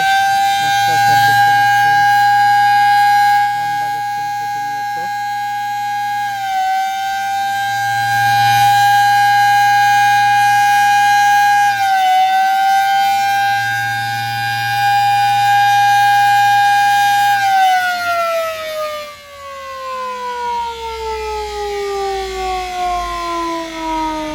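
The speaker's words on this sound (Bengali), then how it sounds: "প্রতিনিয়ত হর্ন বাজাচ্ছেন যেন যাত্রীরা তাড়াতাড়ি আসতে পারে" Horn of the Doyel Pakhi-10 passenger river launch bound for Dhaka, blowing loud and sustained in long repeated blasts with brief breaks, then a falling tone as it fades, while a low engine rumble runs beneath.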